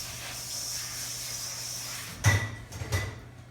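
Celery stalks are rinsed under running water: a steady tap hiss, then a couple of louder splashing bursts as the stalks are moved through the stream.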